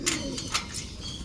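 Pigeons cooing in short repeated bursts at close range as a flock of racing birds is released outdoors in San Nicolas, Pangasinan, with faint voices in the background.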